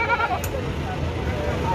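Strong male goats bleat as a group of men wrestle them onto a delivery vehicle, with brief close cries over steady background commotion.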